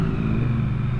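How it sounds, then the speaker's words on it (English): A Triumph Street Triple motorcycle's exhaust gives a steady, close, loud engine rumble that holds evenly for a brief moment. "if you guys are hearing that exhaust note, that's actually the Triumph Street Triple that I just got off of"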